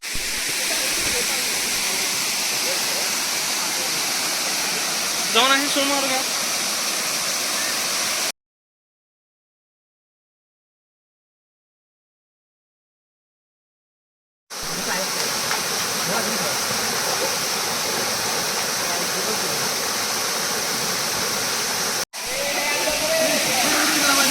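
The perennial Tilari waterfall in the Kolhapur region pours with a steady, dense roaring rush, broken by a brief silent gap, with faint voices now and then.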